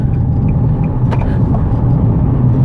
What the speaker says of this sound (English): the only part of town that you could kind of punch the gas and go a little bit fast